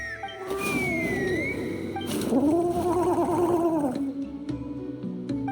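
A bird calls in the fantasy game Genshin Impact, its warbling, gobbling cries rising and falling over a few seconds against steady background music, fairly loud and close.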